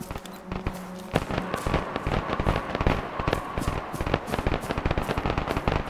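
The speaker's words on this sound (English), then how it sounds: "We proceed to the next interesting point, which involves some gunfire." Gunfire in Arma 3 crackles as rapid, uneven bursts of sharp shots, dense and fairly loud, some distant and some closer, forming a continuous firefight.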